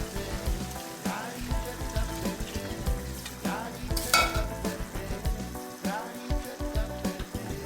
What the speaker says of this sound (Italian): il nostro broccolo sta cuocendo da circa 10 minuti con la salsiccia e la cipolla